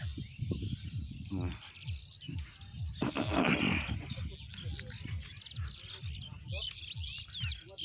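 Birds chatter and call across an open field, in bright repeated chirps over a low rumbling background, with a voice speaking briefly.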